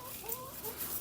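Chickens cluck softly near a backyard chicken coop, a few short overlapping calls rising over a steady low background hum, no talking.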